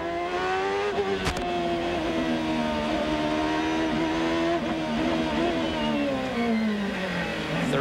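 A Honda-powered CART race car screams at high revs onboard with Juan Pablo Montoya at the 1999 Long Beach street race, a loud continuous engine whine rising and dipping through gear changes, with a brief sharp burst near the one-second mark.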